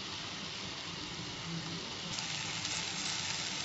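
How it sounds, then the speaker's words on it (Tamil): Chopped onion, tomato and green chilli sauté in hot oil, giving off a soft, steady sizzle that stays faint and even throughout, with no one speaking. "நம்ம கட் பண்ணி வச்சுருக்கிற உள்ளி, தக்காளி, பச்சை மிளகாய் போட்டு நல்லா வதக்குங்க"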